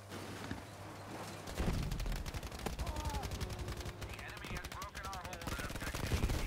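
Gunfire in a Battlefield V match, rapid bursts and shots crackling steadily throughout over a dense battle din, with distant engine noise.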